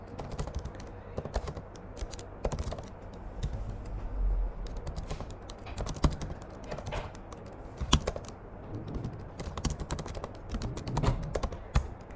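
A computer keyboard is typed on steadily and close by as a server restart command is entered, giving a continuous patter of key taps with a few louder strokes.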